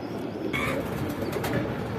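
Indian Kaldom pigeons cooing nearby, soft low throaty calls repeating steadily for about two seconds with no talking.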